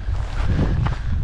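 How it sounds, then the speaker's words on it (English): Steady wind buffets the microphone on a mountain descent near Mount Whitney and Mount Muir in California's high peaks. It is a loud, continuous low rumble throughout, with no talking. "The wind's a little better here."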